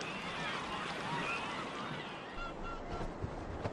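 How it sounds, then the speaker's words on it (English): Migratory geese honk over Lake Dalinor in the Inner Mongolia grasslands during October migration: a dense, overlapping chorus of calls, mostly distant, continuous throughout. "In October, migratory birds begin to fly over Lake Darno"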